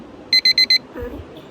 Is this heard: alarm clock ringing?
yes